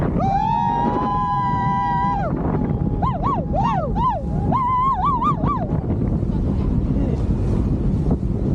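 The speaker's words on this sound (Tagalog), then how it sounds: "Ay, sigaw tayo sabay-sabay dito." A group of riders scream together on a banana boat ride at sea, long rising and wavering shrieks over loud, constant wind buffeting and water rush.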